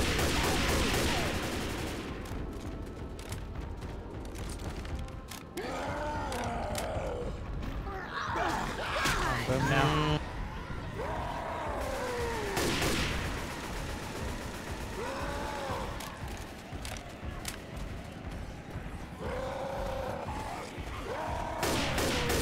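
Sustained gunfire in Left 4 Dead 2 keeps up as fast, dense shooting with bursts of automatic fire, while grunts and monster roars and the odd voice break through the din.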